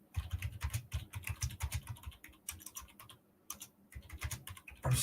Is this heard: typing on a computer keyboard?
yes